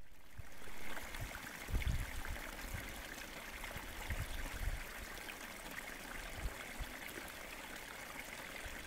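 Small woodland streams trickle and babble steadily beside a forest path, a continuous close wash of running water with occasional low thumps from footsteps.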